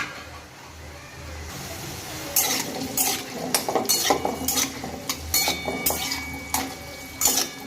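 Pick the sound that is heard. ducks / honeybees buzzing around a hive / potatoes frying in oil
potatoes frying in oil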